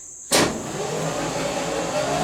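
An electric reverse motor on a Kawasaki Ninja H2-powered cross kart starts with a sudden onset, then holds a steady, strained whine and hum as it pulls the kart up a small incline into a shed.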